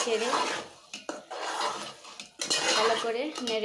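Hilsa fish and bottle gourd stirred in a metal cooking pot, with a spoon scraping and clanking against the sides in uneven bursts, close and fairly loud, separated by brief pauses.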